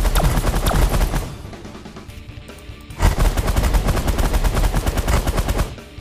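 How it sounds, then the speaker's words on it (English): A minigun on auto fire in The Last Federation rattles in rapid, rhythmic bursts of gunfire, loud and close, pausing briefly in the middle before resuming with a fast, steady stream of shots. "We're going to switch up to the minigun, and we're going to go to auto fire"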